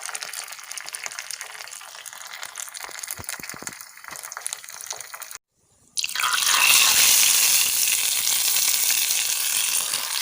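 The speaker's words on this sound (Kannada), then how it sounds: "ಇವಾಗ ಸಾಸಿವೆ ಚೆನ್ನಾಗಿ ಸಿಡಿತಾ ಉಂಟು" Mustard seeds splutter and sizzle in hot tempering oil with curry leaves and a cut dried red chilli for cucumber thambuli, a dense crackling hiss close by that breaks off briefly, then returns louder and steadier.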